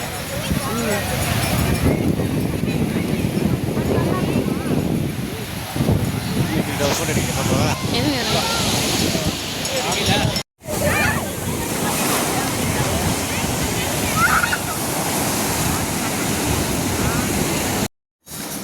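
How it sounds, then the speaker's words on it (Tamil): Evening sea waves break and wash continuously on Besant Nagar beach in Chennai, a loud steady roar of surf with brief cuts, while people talk over it. "அந்த அலை சவுண்டு அப்படியே பீஸ்ஃபுல்லாக அந்த ஈவினிங் டைமில் செம்மையாக இருந்தது"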